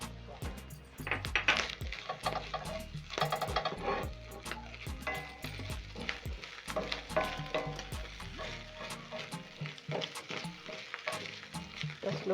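Spices (chili, oregano, black pepper and thyme) are tossed with sausage in a pan for sausage penne pasta, giving a steady sizzle and frying hiss broken by frequent clinks and scrapes of stirring.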